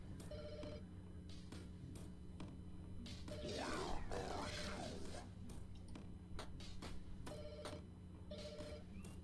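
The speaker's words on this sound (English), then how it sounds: "I heard a phone ringing." A telephone rings repeatedly inside the horror video game Lake Haven - Chrysalis, its bursts sounding at the start and again near the end, with a low ambient drone and a swelling, eerie noise in between.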